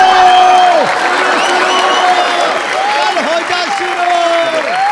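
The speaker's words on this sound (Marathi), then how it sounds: "एकदा जोरदार टाळ्या" An audience at a Marathi comedy show applauds in sustained clapping. A few short whistle-like tones cut through it.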